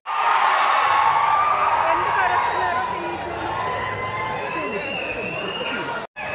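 A packed cinema audience at Shanthi Theatre in Narayanaguda, Hyderabad, shouts, whoops and cheers loudly and continuously while waiting for a screening of the film Oye to begin, a dense roar of many voices with a brief drop near the end.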